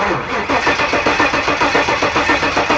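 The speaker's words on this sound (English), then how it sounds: "We're gonna have to crank this thing a whole bunch just to get some fuel up to the carburetors and to get some oil pressure" A car engine cranks without ignition to build fuel and oil pressure for its carburetors, the starter churning in a loud, fast, even rhythm close by with no catch or start.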